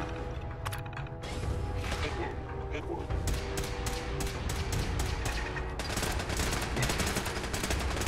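Automated turrets firing in the video game Fallout 4, rapid continuous bursts of gunfire with sharp repeated shots and mechanical thuds, loud and dense with a faint voice mixed in.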